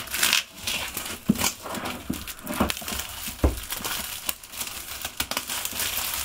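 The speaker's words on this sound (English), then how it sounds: "let's cut the plastic" Plastic wrap being cut and peeled off a Microsoft Surface Go box, close crinkling and rustling with scattered sharp snaps and pulls, no talking.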